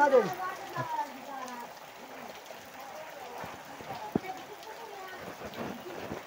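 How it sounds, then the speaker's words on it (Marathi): Steady rain patters across the whole clip, a broad hiss with scattered sharper drops, while people talk over it near the start. "पाऊस पण आला बघा तेवढ्यात."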